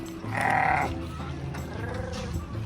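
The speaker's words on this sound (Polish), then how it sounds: "Mega mnie śmieszą te owce." Sheep bleat in a short, fairly close burst, one wavering cry standing out over a steady outdoor background, recorded on a visit to Texas.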